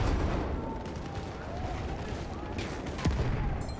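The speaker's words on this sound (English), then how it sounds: "enemy machine gun" Enemy machine gun fire in a Battlefield 1 battle, a steady barrage of rapid shots with distant explosions mixed in, continuous and fairly loud throughout.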